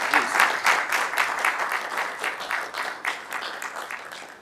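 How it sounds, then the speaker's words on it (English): Attendees at a city council meeting applaud a veteran, a moderate round of clearly separated claps in a room that starts strong and gradually tapers over four seconds. "without further ado, how about a round of applause for Kendra,"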